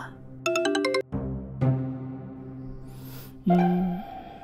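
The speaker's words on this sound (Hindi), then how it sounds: "सर, सोम्या पाठक का फोन है, प्लीज उठाइए ना।" A phone ringtone plays a bright, bouncy electronic melody of tonal notes, loud and close, with no voices over it.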